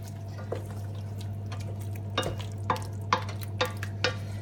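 Sausages fry in a pan while being stirred, a steady low sizzle with a hum underneath and a series of light scraping and clinking stirs spaced roughly half a second apart.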